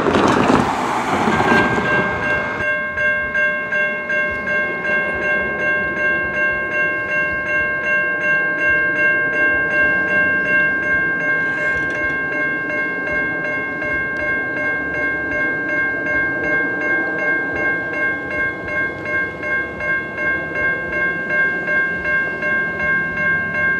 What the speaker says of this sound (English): And it looks like the train is on its way.